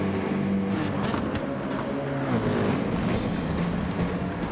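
Ferrari and rival race cars roaring through a racing video game, engine notes rising and falling with gear shifts as cars jostle side by side, loud and continuous throughout.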